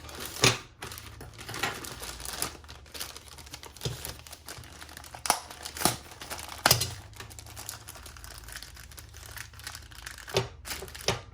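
Packaging crinkles and rustles up close as a box holding a Traxxas Bandit VXL carbon fiber chassis is handled and opened, with scattered sharp crackles and tearing sounds throughout.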